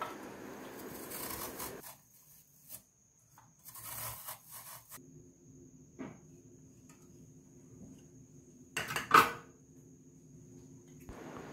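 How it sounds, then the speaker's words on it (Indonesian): Potatoes grated by hand for aloo bhaji make quiet, intermittent rasping scrapes in short bursts separated by near silence, close and faint. "Ini saya marutnya pelan-pelan kan, jadi nggak luka tangan."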